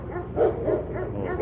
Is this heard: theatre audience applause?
no